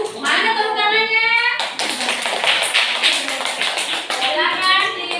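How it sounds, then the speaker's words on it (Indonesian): Classroom of students applauding a group presentation, a dense patter of many hands clapping in the middle, framed by a teacher's voice speaking before and after. "Mana tepuk tangannya?"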